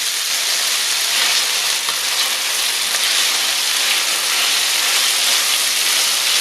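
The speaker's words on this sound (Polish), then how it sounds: "będę je obsmażać ze wszystkich stron, aż się ładnie zezłoci." Chicken pieces browning in a frying pan give off a dense, steady, loud sizzle, hissing continuously up close without any voices.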